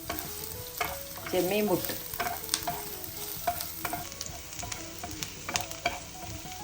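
Chopped ginger, four garlic cloves and half a green chili sizzle in a pan for prawn puttu, with repeated scraping stirs scattered through a steady close fry.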